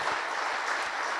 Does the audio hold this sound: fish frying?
no